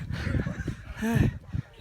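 A chicken gives a short, nasal squawk amid loud, close voices talking over each other.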